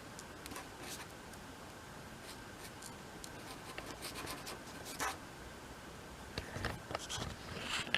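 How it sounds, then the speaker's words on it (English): Pen or pencil scratching across paper as a name is written in the bottom corner, a faint, quiet series of short strokes with brief pauses, alone without talk. "I'm gonna put my name over here in the bottom corner."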